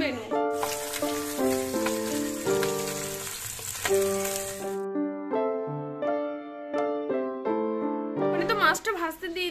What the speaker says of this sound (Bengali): মাছটা ভাজতে দিয়ে দিয়েছি